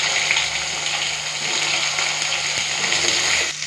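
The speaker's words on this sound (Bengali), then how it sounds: "দিয়ে দিচ্ছি বেগুন।" Eggplant pieces slide into hot oil tempered with nigella seeds in a home kitchen, setting off a loud, steady, close sizzling hiss that holds throughout and then drops off sharply at the end.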